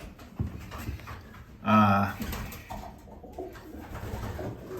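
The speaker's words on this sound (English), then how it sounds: "first 2 birds arrived from the 200-mile race" A racing pigeon arriving home from a 200-mile race gives a brief, soft coo over faint background noise and low murmuring voices, with light rustling around it.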